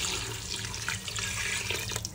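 Water pours steadily from a tap into a cooking pot holding mutton trotters for paya, a continuous splashing gush close by with no pause.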